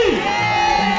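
Brief burst of crowd cheering and whooping at an investiture ceremony for an association's executive bureau in New York, loud and dense for about a second with voices shouting over the noise.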